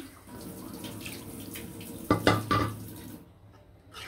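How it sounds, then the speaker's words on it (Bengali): Water poured into a pan of braised pigeon squab, a short burst of pouring and splashing lasting under a second, fairly close, with faint kitchen background and no talk. "সিদ্ধ হওয়ার জন্য হালকা একটু পানি দিয়ে দিলাম।"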